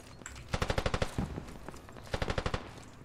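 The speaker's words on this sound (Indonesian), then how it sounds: "Dia nembak kita nembak balas" Gunfire in the SQUAD video game, set in an urban battle: two rapid automatic bursts of roughly eight sharp shots each, loud and close, separated by a short pause.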